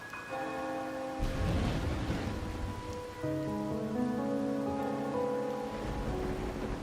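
Rain falling in the Wuthering Waves video game, a steady hiss of drops on a surface beneath soft, sustained musical tones that shift midway, with no talk.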